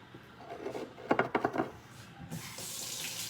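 Water from a kitchen tap, with a few handling knocks and clatters first, then the faucet opens and a steady hissing stream pours for the last second.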